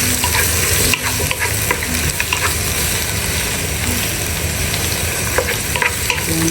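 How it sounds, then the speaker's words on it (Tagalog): Chopped tomato sautéing in a hot pan for a jackfruit dish, a loud, steady sizzle with intermittent scrapes and clicks of stirring throughout, no voices. "Igisa lang yan."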